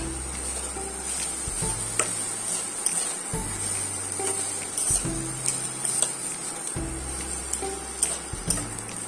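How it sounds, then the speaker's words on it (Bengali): Chopped tomato and salt stirred in a pan for an oil-free dalna: a steady hiss with regular ticking and scraping strokes from the spoon, close and continuous. "এবারে কিছুক্ষণ নাড়বো ওটাকে, টমেটোটা যতক্ষণ না গলে নরম হয়ে যাচ্ছে"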